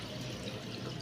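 Water pours into a pot of koshari during cooking, a steady, faint broadband splash and rush that holds evenly throughout without pause.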